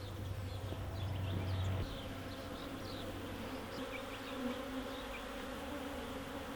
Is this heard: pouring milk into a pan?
no